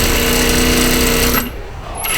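A sewing machine runs a fast, steady stitching whir while back tacking a blouse side seam, then abruptly stops, leaving a brief lull before a faint resumption.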